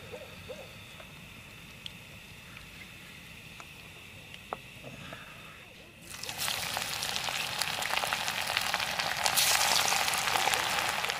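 Food frying in very hot oil at a forest campsite, starting as a quiet background and then bursting into loud, crackling, steady sizzling, with scattered owl-like hoots early on.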